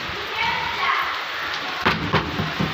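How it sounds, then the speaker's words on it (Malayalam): Steady heavy rain hisses throughout, with a few sharper knocks and splashes near the end. "നല്ല മഴയാണ് കേട്ടോ"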